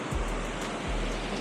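A waterfall along a South Carolina hiking trail gives a dense, steady roar of rushing water, loud and close, with no voices over it.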